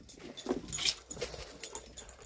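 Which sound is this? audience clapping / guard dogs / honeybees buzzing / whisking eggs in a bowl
guard dogs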